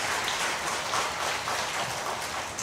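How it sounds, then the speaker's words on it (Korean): A congregation at a Sunday worship service gives brief, even applause, a soft continuous wash of many hands clapping at a distance. "우리 박수 한번 하겠습니다"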